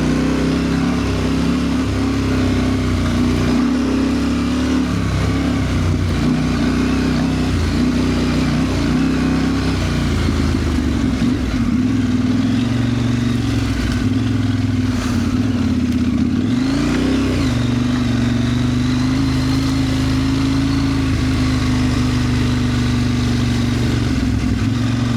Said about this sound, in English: Trying to spin the mud off the wheels.